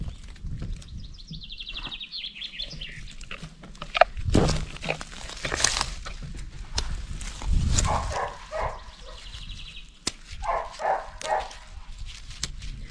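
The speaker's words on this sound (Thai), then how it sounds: "หมาห้าตัว ตัวหนึ่งหยุดตัวหนึ่งเห่า" Dogs barking intermittently in the distance, a few separate barks, with small birds chirping in the background.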